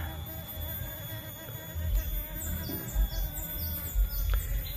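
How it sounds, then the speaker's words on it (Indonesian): Low, steady buzzing of a honey bee close by at a mimosa flower, with faint high chirps and outdoor ambience around it; no talking. "Nah, lebah mengambil madu dari situ"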